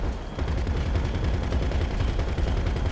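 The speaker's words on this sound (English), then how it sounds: "I'm awful at shooting this gun" Rapid, steady gunfire from a mounted gun in GTA 5 Online during a Doomsday air defenses setup, a dense continuous burst of loud close shots lasting throughout with no pauses.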